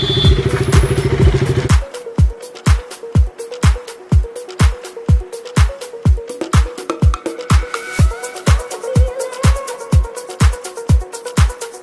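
A scooter is brought out on a Nuakhai festival day. After a brief steady idle, a regular clacking pulse repeats at a fast, even rhythm, close and fairly loud for the rest of the stretch.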